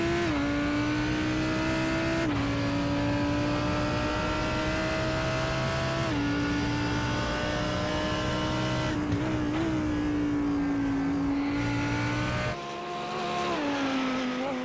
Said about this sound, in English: One of the greatest sounding engines in GT3 racing, naturally aspirated V10